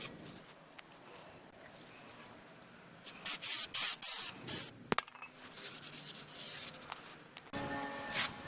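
Brake cleaner sprayed onto a rear brake rotor surface of a 2000-2006 Chevy Avalanche, a few short hissing aerosol bursts at moderate distance mixed with light rubbing and handling sounds.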